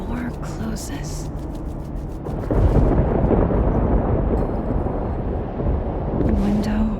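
Heavy rolling thunder and rain from a thunderstorm in the video game Life Is Strange: Double Exposure, swelling louder partway through and holding as a dense, continuous rumble with some lighter effects at the start and end.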